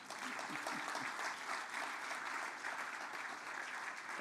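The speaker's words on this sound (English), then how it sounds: "J'espère que vous allez applaudir pour ça." Steady, dense applause from a luncheon audience celebrating Côte d'Ivoire's football victory at the Africa Cup of Nations, continuous, even clapping throughout, fairly distant and without pauses.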